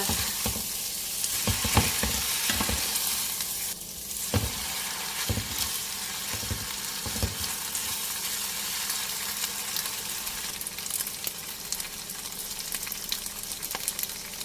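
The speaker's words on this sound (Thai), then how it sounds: "จะผัดให้เส้นเขามีความเกรียมๆนิดนึง" Wide rice noodles stir-fried with pork and egg in a hot pan, a steady loud sizzle broken by repeated scraping and tossing clatters of the spatula, with no talking.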